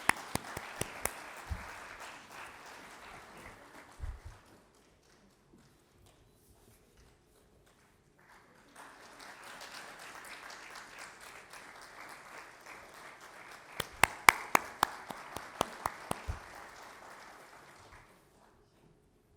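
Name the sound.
audience applause and clapping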